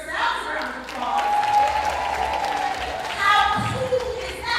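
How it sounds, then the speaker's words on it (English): An audience claps at a fashion benefit runway show, a mid-level patter of hands that runs under a voice speaking over it. "So give yourselves a round of applause."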